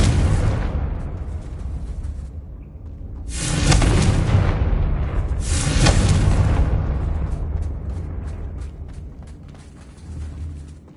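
Confringo blasting spell explosions in a Harry Potter video game, two loud booming blasts with rumbling tails over a continuous background rumble, no talk.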